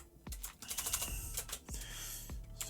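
Someone types on a computer keyboard with quick, close, irregular key taps in short bursts, quiet overall and with no talking.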